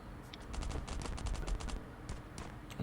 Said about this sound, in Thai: ดูมันยิงรัวๆเลยอะ